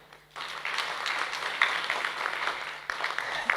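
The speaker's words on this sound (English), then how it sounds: "Please give a big applause." Audience applause at an international global health symposium, steady broad clapping that swells in after a brief quiet start and continues loudly throughout.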